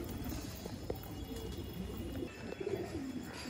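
A male Giribaz pigeon coos softly while being handled, its low murmuring calls mixed with steady background noise and handling sounds.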